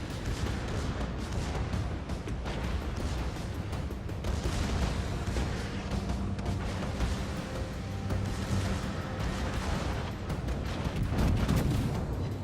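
Battleship Roma firing its turret guns in the naval game World of Warships, heavy booming salvos amid dense continuous rumbling battle noise, loud and close throughout.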